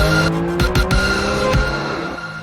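A Porsche 911 GT3 RS of the 992 generation runs fast on a racetrack. A loud, dense engine roar carries through, with tire squeal, a few quick thumps and a gradual fade at the end.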